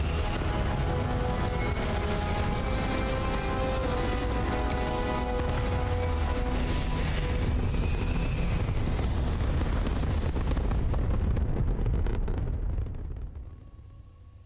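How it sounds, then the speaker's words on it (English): Spaceship thrusters firing at liftoff in Starfield: a steady, loud, broadband roar rumbles for about twelve seconds, then quickly dies away to near silence. "Locked in and ready for liftoff. All thrusters firing."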